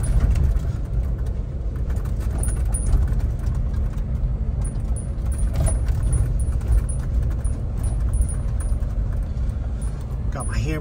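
A car drives in two-wheel drive along a snowy mountain road, giving a steady, close interior rumble of engine and tyres that runs unbroken throughout, with a voice now and then over it.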